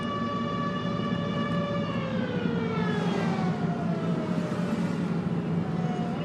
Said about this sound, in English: I think that's the town siren.